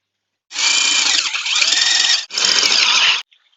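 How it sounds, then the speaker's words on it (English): A power drill bores into a return pipe for a Dutch bucket hydroponic system, a loud close whining drone in two long bursts with a short break between them. "we're going to mark out and drill out our return pipe"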